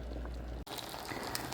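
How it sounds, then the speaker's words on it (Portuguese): The last bit of water simmering at the bottom of a pot of pork ribs, a faint, close bubbling and crackling hiss heard alone. "Só tô ouvindo o finzinho da água no fundo da panela."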